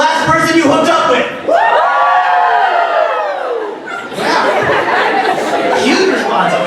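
Stand-up comedy show crowd cheering, whooping and shouting loudly throughout, a dense sustained roar of many voices with a brief dip before swelling again.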